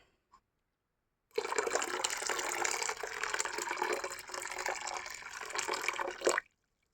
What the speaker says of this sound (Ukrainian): в цю суміш вливаємо пів літра води